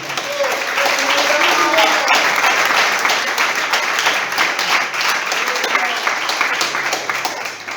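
Church congregation clapping together during a Spanish-language sermon, a loud, continuous wash of many hands with faint voices and a brief musical tone underneath, holding steady from start to finish.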